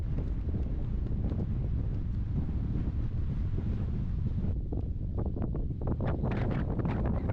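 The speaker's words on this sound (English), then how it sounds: "It was also windy on day 2." Strong wind buffets the microphone nonstop on a mountain hiking trail near volcanoes in Tongariro National Park, New Zealand, a loud, rough rumble with gusty bursts throughout and no voices.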